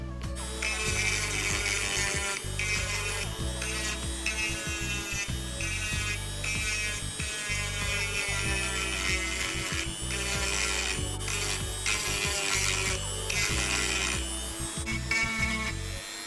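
Hand sanding scrapes across hardened sawdust dough in steady, repeated strokes, with a gritty rasp that continues without pause.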